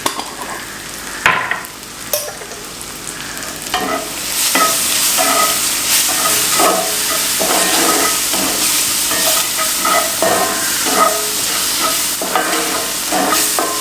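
Onion, tomato and coriander powder fry together in a pan for bread upma, a loud, close sizzle with brisk, repeated stirring scrapes that follow a couple of sharp knocks at the start.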